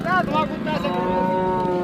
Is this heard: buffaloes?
yes